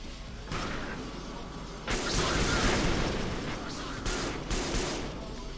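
Heavy, hard-recoiling gunfire in the dark shooter game Peripeteia, several loud sustained bursts that blur into a dense roar, separated by brief lulls, with no talking over them.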